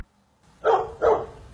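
An old dog at an old village house in Skravena gives two quick, fairly close barks in a row, with near silence before them.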